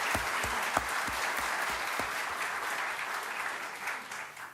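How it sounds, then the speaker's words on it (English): A round of applause rises from an audience at a White House public health awards event and stays even throughout, with a few heavier thumps near the start. "let's give you one more round of applause."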